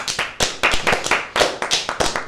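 Applause from a dinner audience, a burst of hand claps with uneven rhythm across a couple of seconds, fairly loud and close, with no talking over it.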